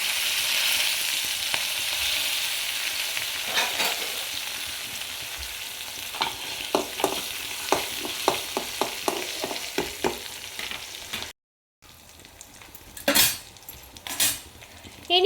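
Steady sizzling of leaves frying in hot oil, with scattered clinks and stirring taps from a utensil against the pan, no talking.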